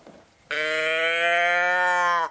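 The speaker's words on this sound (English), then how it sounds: "There's a voice box inside, and when you turn him over, there's a noise." A handmade Martin teddy bear from Thüringen, Germany, is tipped over, and the voice box inside lets out a single drawn-out, bleating growl lasting nearly two seconds, clear and close after a quiet moment.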